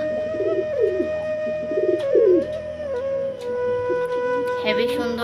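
Pigeons coo close by in repeated soft throaty phrases over a steady background hum, with a few faint chirps.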